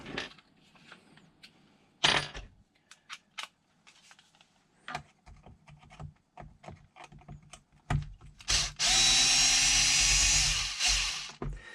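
A power tool backs a screw out during an XMAXX RC truck front-clip teardown: scattered clicks and knocks of handling parts, then a loud, steady whir of the driver running for about three seconds near the end.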